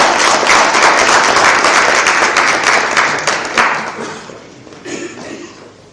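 Seminar audience applause greets a professor called to the podium, dense clapping that starts loud and close, then thins out and tapers over about six seconds, with a few last claps near the end.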